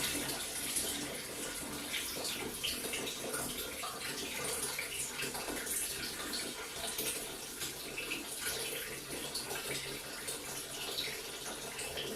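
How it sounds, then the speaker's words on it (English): Filtered water pours steadily into a batch of rhubarb wine, a continuous close splashing and trickling stream with no pauses and no voices. "I've got some filtered water I can add."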